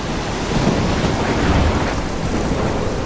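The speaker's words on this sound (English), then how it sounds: "I'm trapped in a storm?" A stormy scene in the video game Life Is Strange: heavy rain, rolling thunder and crashing surf blend into a loud, dense, continuous roar with no talking.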